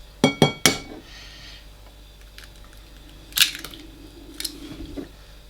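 Two eggs cracked against a bowl while making banana bread by hand, heard as a quick series of sharp clinks near the start, followed by a couple of softer taps and shell sounds in a quiet kitchen.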